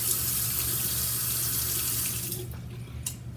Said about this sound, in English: Just putting water on it